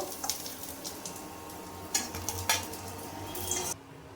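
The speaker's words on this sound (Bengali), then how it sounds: "আমি এগুলো উল্টে পাল্টে লাল করে ভেজে নেব" Flattened rice (chire) pakoras fry in oil, a low sizzle under clinks and scrapes of a utensil against the pan, ending abruptly.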